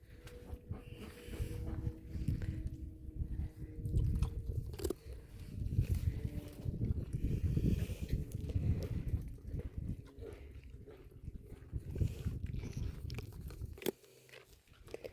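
Farm animals chew and crunch on cookies nearby, with steady munching and biting that runs for most of the stretch and only eases briefly toward the end.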